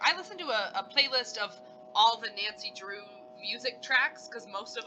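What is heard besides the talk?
No everyday noises stand out.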